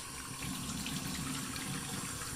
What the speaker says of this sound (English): A little water on the face today.